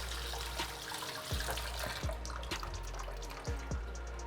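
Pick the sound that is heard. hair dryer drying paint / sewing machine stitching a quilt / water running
water running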